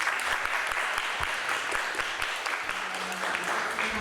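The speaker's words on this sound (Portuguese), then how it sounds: "Queria pedir uma salva de palmas para ela." A conference audience gives a speaker a warm welcome with sustained applause: a dense, steady patter of many hands clapping, moderately loud, with no pauses.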